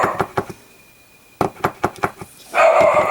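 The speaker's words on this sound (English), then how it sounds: "Did y'all hear my dog?" A pet dog barking at a house door indoors, a few sharp loud barks in two bursts separated by a quiet pause, with a voice briefly at the end.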